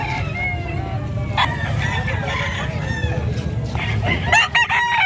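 Chickens and roosters at a busy livestock market, with a dense crowd of clucking and crowing over steady low background noise and brief louder calls near the end.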